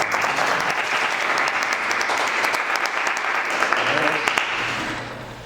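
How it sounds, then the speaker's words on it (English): Steady audience applause at a Denver tech meetup, a dense continuous patter of many hands at moderate level that fades slightly toward the end, with faint voices underneath. "So give me a round of applause"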